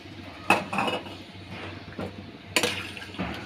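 A spoon stirs curry made with broad bean seeds and dried fish in a pot, giving two sharp metal clinks followed by softer scraping and sloshing close by.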